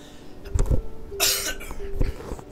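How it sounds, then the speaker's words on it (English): A person coughs several times in short bursts, close and fairly loud, with throat-clearing sounds in between and no speech. "I do still have a little bit of a cough."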